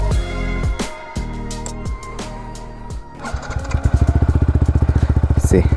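Yamaha R1M motorcycle fitted with an Akrapovic exhaust and dB killer, starting up with a few sharp revs and then settling into a loud, rapid, pulsing idle close by.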